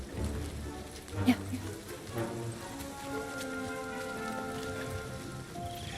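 Rain falls steadily in the Indiana Jones and the Great Circle video game, a soft constant patter heard under low music and a brief spoken exchange.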